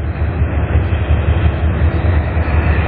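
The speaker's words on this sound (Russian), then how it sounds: "Опа, электричка тихонько." An electric suburban train passing near a hydroelectric station in Ladyzhyn, giving a steady, fairly loud rolling rumble with faint rhythmic wheel clatter, continuous for the whole stretch.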